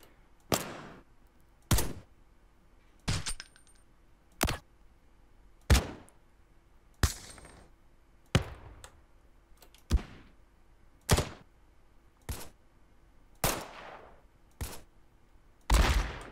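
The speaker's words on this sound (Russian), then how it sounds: "я решил сюда вставить абсолютно все звуки стрельбы, которые я вставляю в мувик" A series of about fourteen sharp video game gunshot sound effects from GTA San Andreas multiplayer, spaced roughly a second apart, each a crisp bang with a short decaying tail, isolated against quiet.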